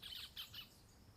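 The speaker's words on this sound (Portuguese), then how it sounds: "Ai, que lindo os pássaros cantando." Birds sing and chirp in a brief, faint burst of quick high squawking notes, heard alone with no talking over them.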